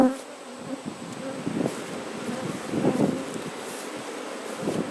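Honey bees buzz continuously around an open hive showing drone brood, a dense close hum with individual bees swelling past the microphone, plus light wind rustle.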